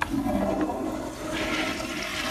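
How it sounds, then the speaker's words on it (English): A toilet flushes in one continuous rushing swirl of water, close and loud, with no speech over it. "Love a good toilet flush."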